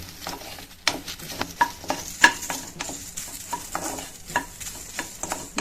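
Lentils dry roasting in a pan for Andhra paruppu podi, a busy crackle and rustle of grains being stirred with scattered clicks and pops, steady and fairly close, with no talking.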